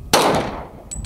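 A single sharp crack from a Glock .40 pistol fired out in open desert, loud and close, with a short decaying tail.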